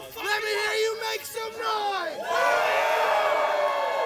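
An extreme wrestling show crowd in Atlanta roaring and whooping, loud sustained yelling and cheering that swells toward the end, with a commentator talking over it.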